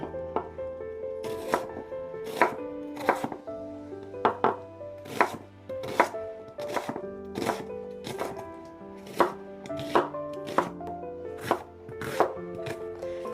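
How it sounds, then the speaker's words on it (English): Knife chopping food on a cutting board in a home kitchen while cooking a one-pot pumpkin beef pasta: a steady run of sharp, close taps, roughly one or two per second, over faint background music with no talking. "I'm just going to chop them up."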